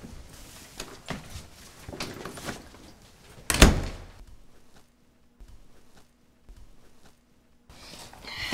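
An apartment door thumps loudly once mid-clip amid faint handling noises and quiet room tone, with a brief low hum afterward.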